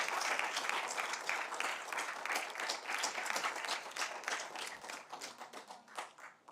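Audience applause fills a city council meeting chamber, a dense steady patter of many hands clapping that gradually thins and fades toward the end, with no talk over it.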